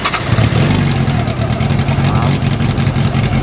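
A Honda CB400SF motorcycle fitted with a swapped-in VTEC 3 engine runs steadily at idle, loud and close, with a continuous low rumble and no talk over it.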